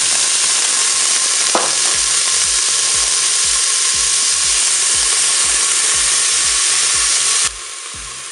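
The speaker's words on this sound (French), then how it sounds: "Voilà, l'huile est chaude, donc on va commencer par mettre les oignons dans la cuve." Chopped onions sizzling in hot oil inside a Cookeo multicooker pot, a loud steady hiss with rhythmic stirring scrapes throughout, cut off abruptly near the end.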